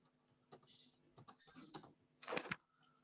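Someone types a search on a computer keyboard, with scattered soft key clicks building to a quicker, louder burst near the end, nearby and with no voices.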